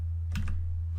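Two or three quick clicks on a computer keyboard, close and brief, over a steady low background hum.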